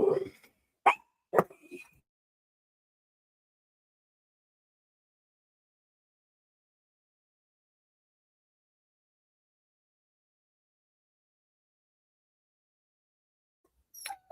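Dogs bark in a quick burst of three or four sharp, fairly close barks, then long silence before a short bark or yelp returns at the very end.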